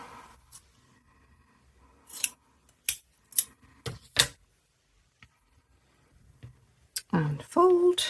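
Scissors snip through folded fabric in a series of sharp, crisp cuts, several in quick succession, with a voice briefly heard near the end.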